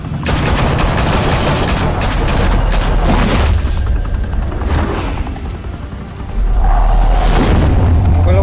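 Loud, sustained gunfire and heavy explosions from a Batman video game set in Gotham, with a rumbling, roaring bed of blasts that dips briefly before surging back.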